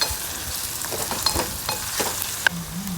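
Two green chillies fry in a pan while being stirred, a steady close sizzle with intermittent scraping taps of the spoon against the pan.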